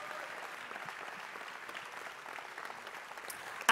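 A church service audience claps steadily throughout, a dense and even wash of applause with no voices over it.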